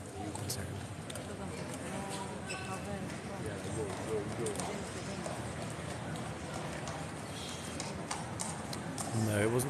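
Horses of a mounted ceremonial guard clip-clop on pavement while a guardswoman talks with tourists. The hoofbeats patter steadily under near-constant talk.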